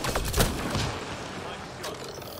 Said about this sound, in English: Oh, it's a grenade launcher